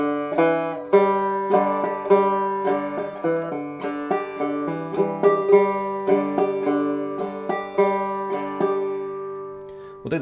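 Clawhammer-style banjo plays the folk tune She'll Be Comin' Round the Mountain, a steady stream of bright plucked notes and brushed strums with a rolling rhythm, up close and alone for about ten seconds.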